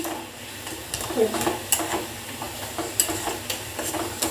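A spatula stirs food in a pan over a low sizzle, with soft irregular scrapes and a couple of faint metallic clinks, close but fairly quiet.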